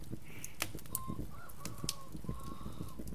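Rooster in the video game Vintage Story clucking in short, scattered calls over a steady ambient bed, with a few sharp clicks and no talk.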